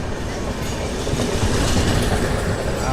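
The Konark Express, running between Mumbai and Bhubaneswar, rushes past alongside with a loud, continuous roar and rhythmic rail clatter close by.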